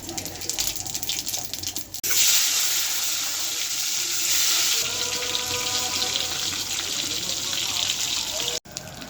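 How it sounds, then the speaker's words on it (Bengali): Potatoes fry in oil with a loud, steady hiss that starts abruptly and runs on, breaking off briefly near the end, with softer sounds before it. "আলুগুলো ভেজে নিই, একবারে পরিষ্কার করব।"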